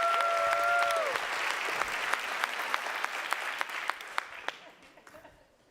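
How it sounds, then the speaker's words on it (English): An audience at a tech conference applauds loudly and steadily, then the clapping thins into scattered individual claps and fades to silence, with a brief electronic tone at the start. "give him a massive round of applause"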